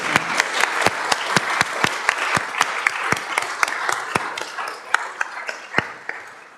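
A small group at a council meeting claps for Tony, sparse, distinct individual hand claps with a loose rhythm, close by in a quiet room, tapering off near the end.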